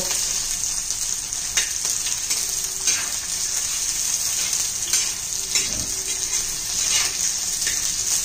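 Lengthwise-sliced onion sautéing in a pan for dry spinach bhaji gives a steady, even sizzle, close and unbroken, with a few soft stirring scrapes now and then.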